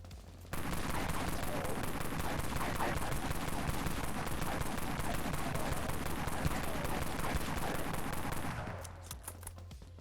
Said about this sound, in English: we're just shooting some things and seeing how it feels